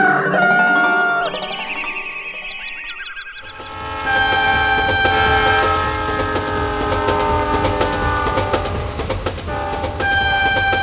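A train runs past, its loud, sustained horn blaring in long tooting blasts over the rumble and clatter of the rail cars, filling the whole stretch.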